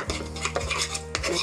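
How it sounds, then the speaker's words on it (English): A spoon stirs crumbled Amish blue cheese into a thick Greek yogurt dip in a bowl, making close, rhythmic scraping and clinking strokes about every half second. "mix it up"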